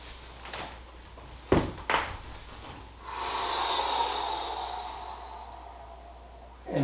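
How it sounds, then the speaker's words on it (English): Close breathing during a slow exercise movement: a couple of sharp nasal snorts, then a long drawn-out breath lasting several seconds, with a new breath starting at the end. "I start with the inhale."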